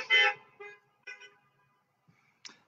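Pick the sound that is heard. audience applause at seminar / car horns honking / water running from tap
car horns honking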